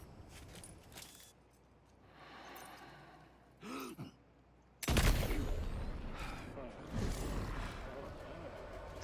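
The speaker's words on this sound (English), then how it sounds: "The enemy heard a gunshot." Gunfire in the video game Death Stranding 2 comes as a sharp burst of loud shots and rattling impacts in the second half, following quieter game sounds, with voices talking intermittently.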